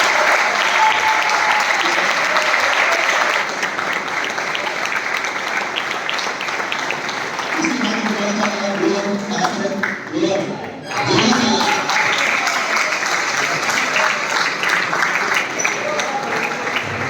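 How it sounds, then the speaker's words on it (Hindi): An audience gives loud sustained applause for Abhilash at an event for RRB results, dense clapping throughout with a brief dip midway and a few voices underneath. "जोरदार ताली अभिलाष के।"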